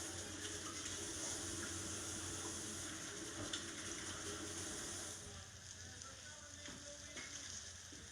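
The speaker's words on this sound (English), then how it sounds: "Wash my hands." Hands are rinsed under a running kitchen tap, a steady broadband hiss of flowing water mixed with the sizzle of salmon searing nearby, faint and continuous, easing slightly partway through, with no talk.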